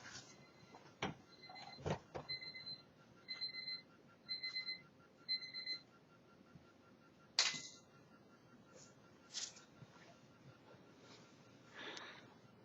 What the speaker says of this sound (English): I forgot about my alarm clock